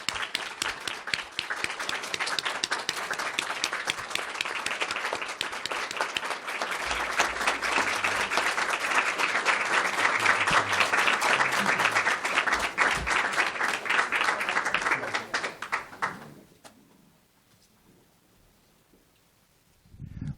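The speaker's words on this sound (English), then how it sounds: "Can we all give a round of applause to welcome Dolores Huerta?" A large audience at a university keynote event applauds to welcome Dolores Huerta, a loud, sustained wash of clapping lasting about fifteen seconds before it fades to near silence.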